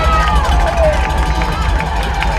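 A very big crowd roars at a high school football game as the Paul VI team takes the field, a steady dense cheer filling the whole stretch beneath an announcer's talk.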